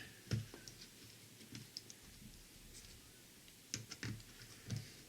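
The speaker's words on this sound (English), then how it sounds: "This driver is ratcheting." A ratcheting screwdriver drives screws into Benchmade 940 Osborne knife scales, giving quiet, close clicks in short irregular bursts against a faint background hiss.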